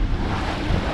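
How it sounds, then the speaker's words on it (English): A sailboat moves slowly through rough sea, and waves and gusting wind make a steady, loud wash of roaring noise with no clear breaks, close to the microphone. "Wow, look at these waves."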